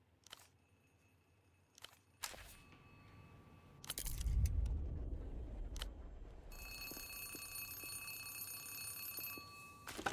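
A telephone rings in Zero Parades with a sustained electronic tone lasting a few seconds, preceded by sparse clicks, clacks and a low rumbling swell in a quiet room.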